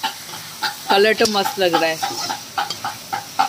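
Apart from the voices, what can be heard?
onion, ginger and chilli frying in a pan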